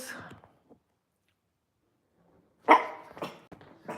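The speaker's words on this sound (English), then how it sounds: "Only thing when it's live, you can't stop the barking." A dog gives a couple of short, close barks with a brief quiet gap between them.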